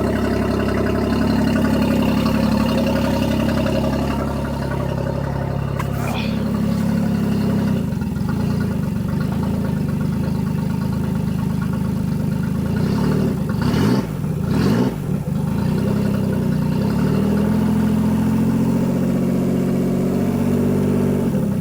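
A 2024 Tohatsu MSF40A outboard jet motor idles steadily with a low, even rumble, close by, its pitch wavering briefly in the middle before settling back.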